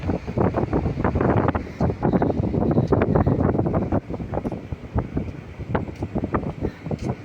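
A repaired 10hp air conditioner unit runs with a loud, rough mechanical rumble, pulsing unevenly and constantly throughout, with no voices over it.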